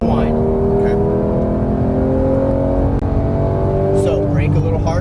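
Porsche 991 GT3 engine pulling hard on a race track, a loud, steady rising roar with layered harmonics that climb through the clip, carrying on continuously with no gaps.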